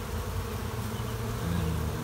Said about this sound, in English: it's got a fair amount of bees out of this tree